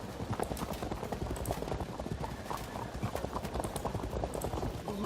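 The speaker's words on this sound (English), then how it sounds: "I'm going to move my horse archers over here" Horse archers moving across the field in the strategy game Field of Glory 2, a dense, continuous clatter of many hooves, loud and close, running without a break.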